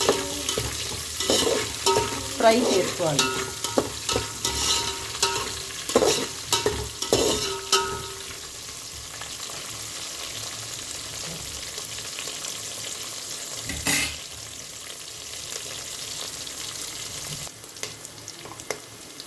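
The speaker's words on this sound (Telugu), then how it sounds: "1 ఉల్లిగడ్డ తీసుకున్నానమ్మా. కొంచెం ఫ్రై చేసుకోవాలి." Onion frying in a pan for drumstick dal, with a steady soft sizzle and clattering stirring and scraping strokes over the first eight seconds, then quieter frying with an occasional clink.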